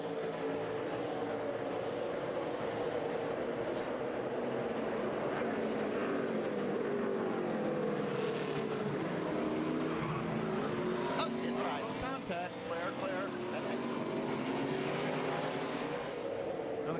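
Cup Series NASCAR race cars roar around the track in a continuous loud engine drone that rises and falls in pitch as the pack passes, with commentators talking over it.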